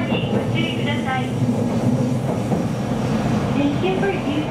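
A JR Kyushu local train runs through rural hill country, with a steady loud rumble of wheels on rails and faint squealing, heard from inside a carriage while an onboard announcement voice speaks.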